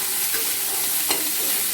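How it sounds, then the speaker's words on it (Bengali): Potato and cauliflower frying in oil in two pans, giving a steady close sizzle and crackle throughout, with a couple of brief stirring clicks and no talking. "ওদিকে আলুটা ভাজা হচ্ছে আর এদিকে ফুলকপিটা ভাজা হচ্ছে"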